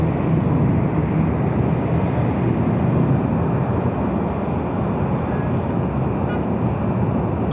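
An Emirates Airbus A380 airliner arriving from Dubai at Los Angeles airport roars as a broad, steady jet rumble, loud and constant throughout with no break or talk.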